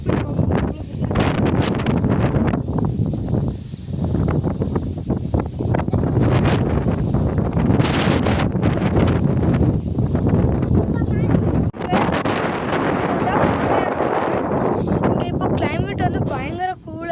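Strong wind gusts across a high viewpoint in the Manjolai hills, roaring and buffeting the microphone steadily throughout, with a person talking over the rushing air.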